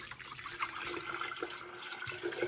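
Distilled water being poured into a container while making snake juice, a soft steady trickling and splashing stream, close but faint, continuing without voices.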